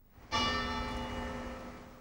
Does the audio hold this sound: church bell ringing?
yes